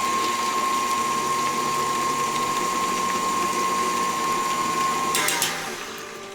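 An electric mixer runs steadily at medium speed through Nanaimo bar cookie dough with a beaten egg, a constant whirring hum with a sustained whine, then a few clicks near the end as the motor slows.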